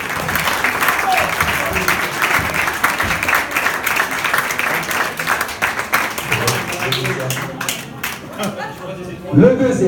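A crowd applauds the winner of a 196 km cycling race at Wadelincourt, a dense, sustained clapping with chatter mixed in that thins out near the end.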